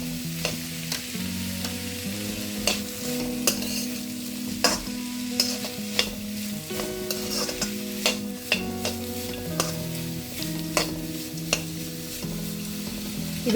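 Green peas fry in a pan for oats kara bath, sizzling steadily under repeated sharp clinks of a spoon stirring against the metal, close and fairly loud.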